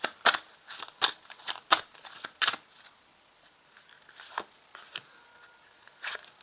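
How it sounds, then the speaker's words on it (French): Tarot cards being shuffled by hand, a run of crisp, papery riffles and flicks in quick irregular bursts, close and fairly quiet, then thinning out to scattered light taps. "je vais déjà remuer les cartes et je vais les placer tout simplement"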